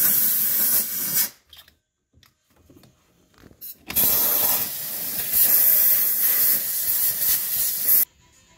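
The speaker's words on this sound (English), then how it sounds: "take a little compressed air, blow the hole out" Compressed air blasts out a threaded hole in short bursts: a loud hissing spray, then a pause with faint clicks and rustling, then a longer sustained hiss that cuts off sharply.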